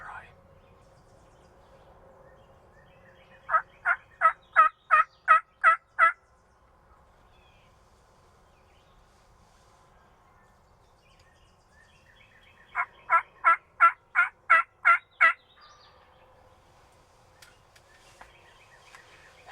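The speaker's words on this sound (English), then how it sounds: "I just struck up a bird on the neighbor's piece, probably 400 or 500 yards away, and he's gobbled 2 or 3 times" Out on a spring turkey hunt, a wild turkey gobbles twice from several hundred yards away, each call a quick rattling burst, separated by long stretches of quiet outdoor air.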